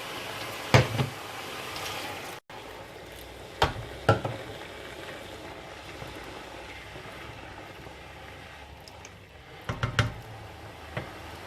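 Rice fried in oil gives a steady, quiet sizzle and hiss with a few sharper bursts as water is poured in, with no voices over it.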